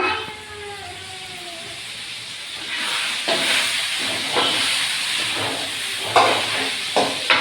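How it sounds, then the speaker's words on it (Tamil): A pressure cooker cooking mutton lets out a continuous steam hiss that grows louder midway. Faint kitchen clatter sounds beneath it in a home setting. "மட்டன் வேக வச்சுக்கிறாங்க குக்கரில்"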